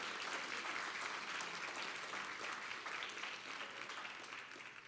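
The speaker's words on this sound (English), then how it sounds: "can we give a round of applause for Brandy" An audience at a school winter sports awards gives a trainer a round of applause, a dense, steady clapping from a large crowd in an echoing room that swells briefly and then gradually starts to thin out.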